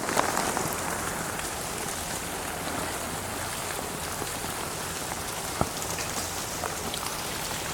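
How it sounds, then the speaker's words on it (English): Rainwater drips from a tree onto the ground outdoors in a steady, dense patter that continues throughout, with one sharper, louder drop landing near the end. "It just rains out of that tree."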